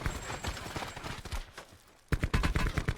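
Gunshots from a Blackout battle royale match in a cornfield, sounding as bursts of rapid cracks that fade into a quieter gap before a louder, closer volley of quick shots resumes.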